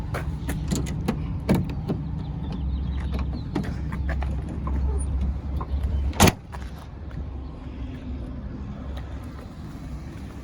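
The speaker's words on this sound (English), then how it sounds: "it does have this" A tailgate step on a 2017 Ford F-350 Super Duty Lariat dually pickup is pulled out with a run of mechanical clicks and creaks, a sharp latch clack near the middle, then a quieter settling hum, all close up.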